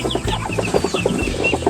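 Muscovy ducks at a farm, a loud flock giving repeated short hissing, clucking calls in quick uneven rhythm, close by and busy.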